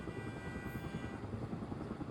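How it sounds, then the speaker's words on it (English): Helicopter from the video game Quantum Break, a steady close rotor thump and whine that continues throughout without any speech. "Better get inside before the chopper spots me."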